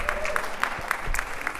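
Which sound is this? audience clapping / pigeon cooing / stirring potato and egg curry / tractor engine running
audience clapping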